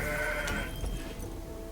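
A short, clear goat bleat played in a card game as the Mountain Goat card comes into play, wavering for about a second over a steady background hum.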